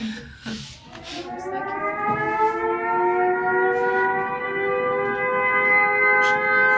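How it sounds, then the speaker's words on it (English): World War II air raid sirens sound an alert, a steady rising wail that swells and holds, droning loud and sustained with no voices over it. "Sirens sound the alert."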